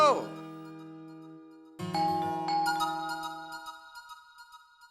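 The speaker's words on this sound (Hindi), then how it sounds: "घंटी बजी है तो कोई आया ही होगा ना।" A tonal chime rings out, fades, then a second ringing tone sounds with lingering overtones, like an electronic doorbell, no talking.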